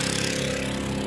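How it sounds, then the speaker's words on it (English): A Hangkai 4hp outboard motor serving as a backup drives a boat upriver, a steady loud mid-pitched engine drone with constant hum throughout and no talking. "thank God I have this backup motor"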